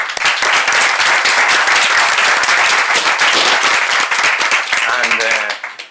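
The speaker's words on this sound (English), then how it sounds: "I ask you for a big applause for Dr." A large audience applauds a speaker after a talk on Google Glass in healthcare, loud sustained clapping that fades out at the end as a voice comes in.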